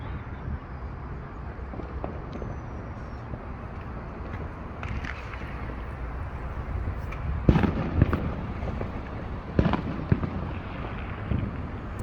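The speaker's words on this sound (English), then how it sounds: "You can sort of hear the fireworks going off around over here behind me" Fireworks bursting in the distance during a Fourth of July show in Katy, Texas, heard as a few scattered faint-to-moderate booms and cracks over a steady outdoor background rumble, with no talking.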